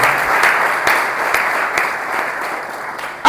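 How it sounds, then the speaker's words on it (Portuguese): A crowd at a faith-and-business talk breaks into sustained applause, a dense steady wash of many hands clapping at even loudness, cut off abruptly at the end. "Uma linda salva de palmas para vocês"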